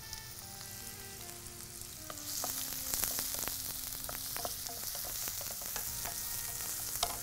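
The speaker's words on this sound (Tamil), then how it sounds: "வெங்காயம் ரொம்ப அப்படியே நிறம் மாறி வதங்கணும்னு இல்லை, லேசாக ஒரு வதங்கினாலே போதும்." Onions with a pinch of salt sizzle in hot oil for a Tamil cooking show dish, a steady frying hiss that grows louder partway through, broken by scattered sharp clicks and scrapes of a spoon against the pan.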